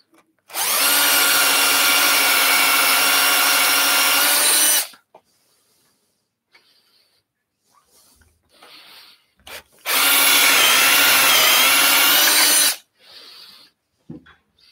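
A drill chuck mounted on a wood lathe bores into a turned wooden salt mill blank, two loud sustained whining bursts of about four and three seconds separated by quiet with faint handling noises.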